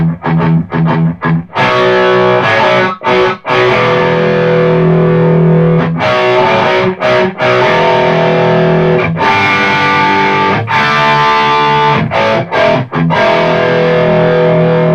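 Electric guitar through a Metro-Plex distortion pedal with its boost engaged: loud, saturated chords ring out continuously, broken by a few brief choked pauses between strums.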